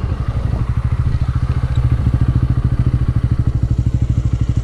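A Bajaj Pulsar N160 motorcycle revs hard through the gears, its exhaust a loud, close, steady rapid pulsing drone that holds throughout with no talk.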